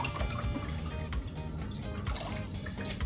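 Sea moss is rinsed with water poured from bottles, producing soft, faint trickling and dripping splashes with small irregular plops and no voices.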